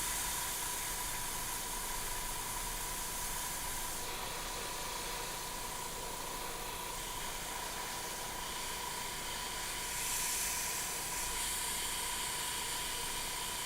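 An airbrush sprays paint with a faint, continuous airy hiss under a thin steady whine, quiet and unbroken throughout.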